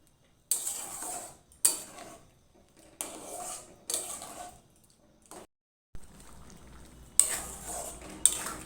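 Tarka, a lentil curry, being stirred and cooked in a pan, with repeated bursts of spoon-against-pan scraping and stirring separated by short pauses, alongside a soft simmering bubble, close and fairly quiet with no voices.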